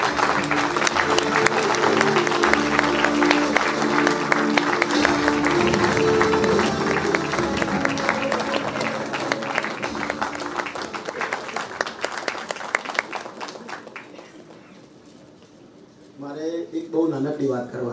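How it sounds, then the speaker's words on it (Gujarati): An audience applauds at a 2018 Ranghotra stage event, dense clapping filling the first half under background music and voices, then thinning and fading toward the end. "જોરદાર તાળીઓ થઈ જાય કોવિભાઈ માટે."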